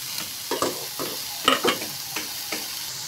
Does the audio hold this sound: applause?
no